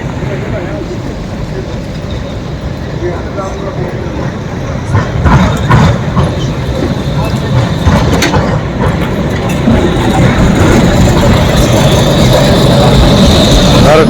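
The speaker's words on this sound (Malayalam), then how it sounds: "ഇത് വേറൊരു ട്രാം അതാ വരുന്നത്." A tram passes along a street in Zagreb, Croatia, its low rumble building and growing louder toward the end amid city traffic noise, with a person talking over it.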